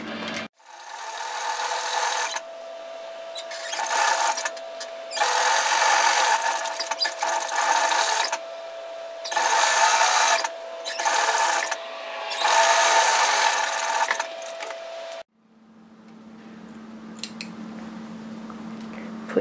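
A sewing machine runs with a long stitch length set, stitching in several loud bursts separated by short pauses, close by, followed by a quieter hum after it stops.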